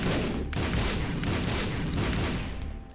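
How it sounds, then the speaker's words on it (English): Bombs blow up in The Binding of Isaac, a dense, loud barrage of overlapping blasts and crackles lasting about three seconds before easing off slightly at the end. "I guess we're bombing again."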